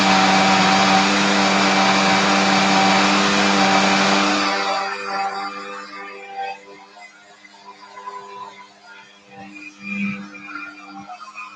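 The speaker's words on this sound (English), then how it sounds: "The blender has a number one and number two. Now I'm going to high it number two to make it more smooth." A two-speed blender whirs loudly on its high setting, blending a spinach smoothie, then the motor cuts out after about four seconds, leaving faint clinks and soft rustling behind.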